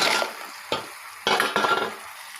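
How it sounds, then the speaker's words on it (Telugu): Crabs tumble into a pan of frying tomato masala, setting off short bursts of sizzle and scraping stirring that come in three or four separate strokes with quieter gaps between, close and fairly clear. "ఇప్పుడైతే పీతలను వేసేసుకుందాం"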